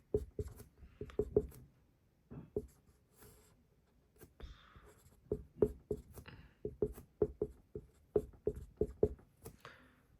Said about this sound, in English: I'm going to quickly write that down